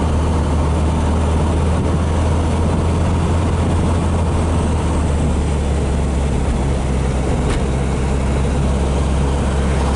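A 1969 Volkswagen Beetle drives through hilly Gold Coast hinterland. Its loud, steady low engine drone and road rumble run throughout with no talking.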